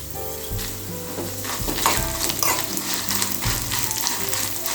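Black gram lentils sauté in a hot oiled pan for an Andhra-style dish, giving a steady close sizzle with stirring scrapes and soft tonal music underneath.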